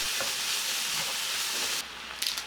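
Seasoned beef stir-frying in a hot pan, a steady loud sizzle that drops to a quieter hiss near the end, followed by a couple of short stirring scrapes.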